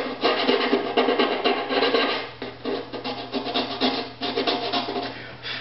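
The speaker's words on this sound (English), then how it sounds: "I'm going to take my file, and the smooth side will go toward the string, so I don't sand off my string." A file rasps against a wooden violin bridge beneath the string in steady back-and-forth strokes, close-up and continuous with small dips between passes.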